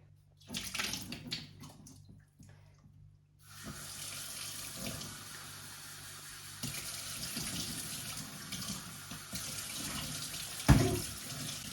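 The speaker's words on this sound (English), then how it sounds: "I start by using a lot of water to rinse them and also to place them." Tap water runs and splashes as alfalfa and clover seeds are rinsed on a sprouting tray, starting with short bursts and settling into a steady, fairly loud stream.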